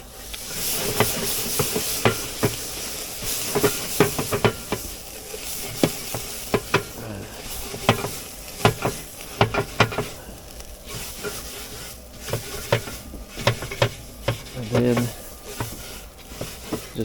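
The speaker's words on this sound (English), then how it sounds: "Just give it another touch of water." Water hitting a hot grill grate hisses and sizzles in bursts, with scraping and clanking strokes in a steady rhythm, close and fairly loud.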